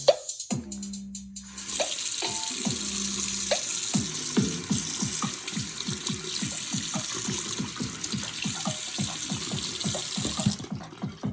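A cheap Bluetooth speaker keeps playing with water sitting on it, giving a steady, slightly muffled stream of music with repeated rhythmic hits after a brief opening burst, and no talking.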